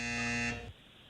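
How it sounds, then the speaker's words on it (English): A quiz-show time-up buzzer sounds on a radio comedy program: one loud, steady electronic tone with rich harmonics holds for about half a second, then cuts off and fades into quiet. "did he get it under the buzzer?"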